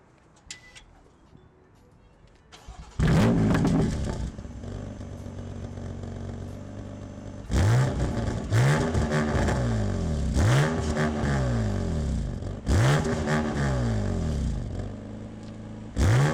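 A 2018 BMW M3's engine, quiet at first, then roars to life and is revved in several sharp, rising bursts with falling returns between them, loud and close with no talk.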